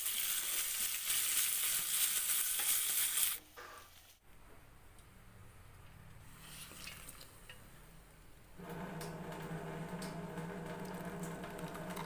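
Urad dal and garlic frying for chutney, a steady close sizzle that drops quieter for a few seconds and then swells back into a fuller hiss, with no speech.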